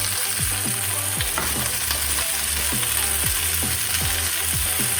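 Peppers, peas, corn and red beans fry in a pan with a steady sizzle, while a utensil stirs and scrapes through them in repeated strokes, close and continuous with no talking.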